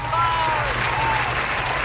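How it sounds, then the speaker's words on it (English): A canned applause effect in a casual vlog about a broken-down car, a brief burst of steady crowd clapping with some cheering, loud and continuous for under two seconds. "Yay! Round of applause."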